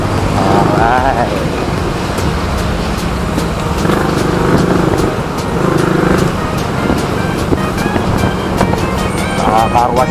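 A motorcycle rides through road traffic with steady engine and wind noise up close, other vehicles passing around it.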